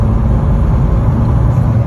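A car engine hums and rumbles steadily while driving, heard from inside at a constant loud level, with no clear revving swell.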